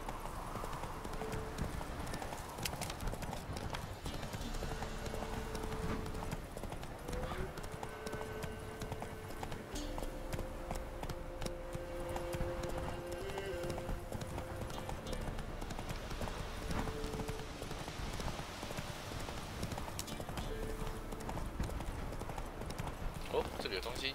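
Roach the horse galloping in The Witcher 3 video game, rhythmic hoof clip-clops continuing steadily under game music, with a brief whinny and some talking.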